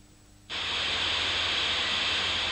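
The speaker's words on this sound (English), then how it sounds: "That funny sound you hear is actually data or information being transferred down the line." Dial-up modem transferring data down a telephone line: after a quiet hum, a harsh, even hiss of noisy data tone switches on abruptly and holds steady and loud throughout.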